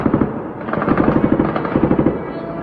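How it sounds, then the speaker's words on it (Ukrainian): Machine gun fire near Tuapse, where a port tanker and oil terminal are burning: repeated rapid bursts of loud, sharp shots rattle in quick clusters with brief gaps between them. "З пулеметов."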